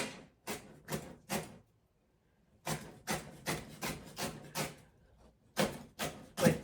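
Knife cutting couscous salad ingredients into small pieces on a board, a series of close, rasping chops in short bursts separated by brief pauses.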